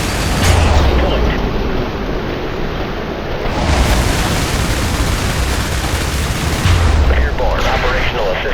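Dense, loud gunfire and artillery from the IS Defense harbor level, a continuous roar of shots and blasts with deep rumbling swells, close and unbroken.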